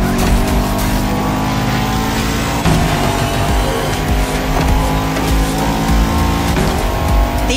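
A Bugatti Veyron and a Noire race flat out in The Crew Motorfest, their engines a loud continuous roar with brief tire squeal and gear-shift dips throughout.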